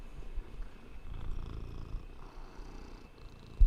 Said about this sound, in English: Purr into the microphone, please.